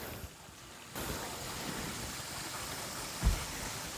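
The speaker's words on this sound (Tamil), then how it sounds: "ஆனால் இப்போ பாருங்கள் தண்ணி வெறும் இதாக ஓடிக்கிட்டு இருக்குது." Stream water runs at Kampung Janda Baik in Malaysia's hills as a faint, steady wash of flowing noise, distant and quiet, with one brief thump near the end.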